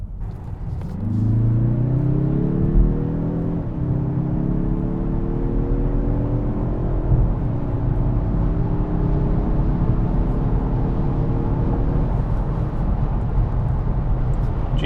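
A 2021 Mazda 3 Turbo sedan accelerating hard from inside the cabin, with a loud engine drone climbing in pitch through two upshifts, each shift briefly dropping the tone before it rises again.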